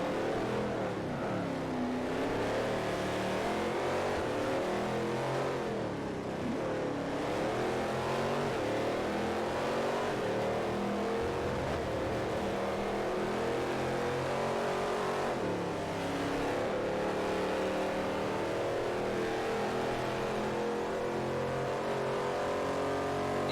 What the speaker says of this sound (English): This Corvette sounds so good, though.